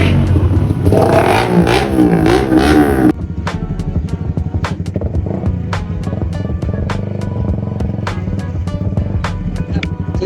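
Suzuki Raider 150 Fi motorcycle with a remapped ECU on a racetrack, its engine revving loudly and close, first a rising and falling high rev, then a steady drone with sharp repeated clattering pops.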